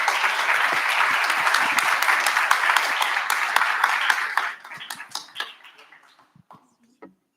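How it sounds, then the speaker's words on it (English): Audience applause at an investment summit, dense sustained clapping that holds steady then thins out into scattered claps and fades to quiet near the end. "Give them a round of applause,"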